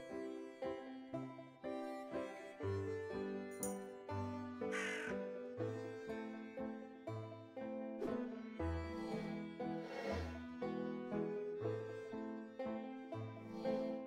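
A crow in the video game A Skeleton's Secret gives a series of harsh, repeated caws over a steady tonal backing. The calls are fairly quiet and spaced throughout.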